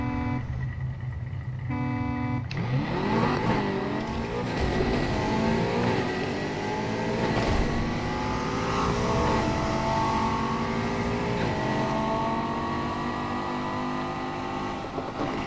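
A car accelerating on nitrous in the racing video game Need for Speed Heat, loud engine revving with rising pitch sweeps through repeated gear shifts, after a short horn-like tone at the start.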